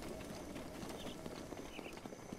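Hooves of Lluvia, a mare in Zelda: Breath of the Wild, clip-clop in a quick steady gait, close and fairly loud, with game ambience underneath and no talking.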